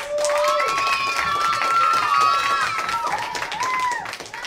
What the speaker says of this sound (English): I want us to give a huge round of applause to MC Lars